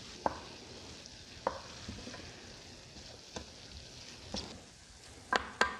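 Meat browns in a pan for biscuits and gravy while a spoon breaks it up, a soft continuous frying hiss with sharp scrapes and taps of the spoon every second or so.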